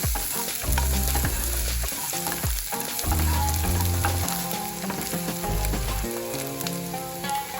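Dal frying with grated ginger and panch phoron while being stirred, a loud, close, continuous sizzle with intermittent scraping strokes and steady low musical hum underneath, no voices.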